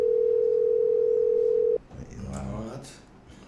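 A steady telephone dial tone hums alone for nearly two seconds on a radio call-in line, then cuts off abruptly as a voice begins talking over faint line noise.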